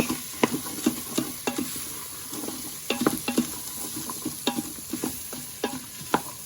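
Vegetables stirred in a frying pan and coated with a spoonful of flour for a faux bourguignon, giving repeated scraping clicks over a steady sizzle, close and fairly loud, with no talk.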